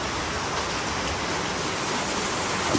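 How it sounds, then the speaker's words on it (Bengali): Heavy rain falls on a tin roof in a steady, dense roar of drumming water, sustained and even throughout, with no voices over it. "বৃষ্টিও হচ্ছে বাপরে বাপ"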